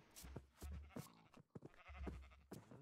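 Sheep bleat in the video game Minecraft, several wavering calls in quick succession, fairly faint, mixed with other game noises.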